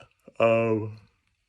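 A single drawn-out yawn with a voiced, wavering tone, rising in and trailing off over about a second, close to the listener.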